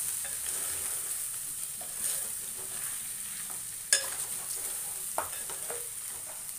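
Bat curry frying in a pan with salt, mixed and stirred steadily: soft scraping strokes over a constant high sizzle, close, with a couple of sharper knocks of the utensil against the pan and no talking.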